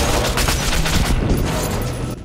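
Loud, close bursts of rapid gunfire in Metro 2033 Redux, a dense volley of shots filling the whole moment without talk.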